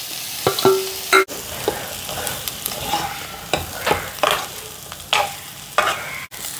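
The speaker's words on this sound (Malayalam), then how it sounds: "നമ്മൾ വഴറ്റി വെച്ചിരിക്കുന്ന നമ്മുടെ മുരിങ്ങയ്ക്കായും കിഴങ്ങും കൂടെ ഇതിനകത്തോട്ട് ഒന്ന് ഇട്ട്" Sautéed drumstick pieces and potatoes go into sizzling masala in a pan and are stirred, giving a steady close frying sizzle broken by scraping clanks of a spoon against the pan, with no talking.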